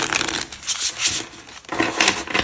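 Tarot cards being shuffled by hand, with rapid riffling bursts that swell and fade in quick waves, close and fairly loud, with no talking.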